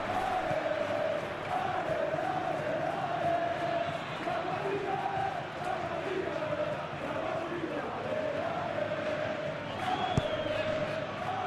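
A stadium crowd in a simulated football match between Real Madrid and Real Sociedad gives off a steady roar with swelling chants and cheers, continuous and distant-sounding throughout.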